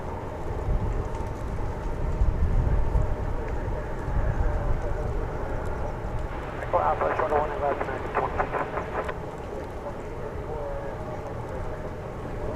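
American Airlines Boeing 737-800 jet moving on the runway at Dallas Fort Worth airport, a low steady roar with a rising engine whine midway, heard under people talking.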